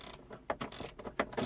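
A ratchet clicks in short bursts while tightening 10 mm airbag bolts on a Volvo C70, giving quick, close mechanical ratcheting sounds with brief pauses between strokes.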